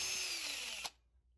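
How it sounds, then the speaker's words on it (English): A power drill whirs steadily while mixing aerated geopolymer cement, a loud close high whine that cuts off abruptly near the end, leaving quiet. "I'm just using the drill to make the air inside the cement."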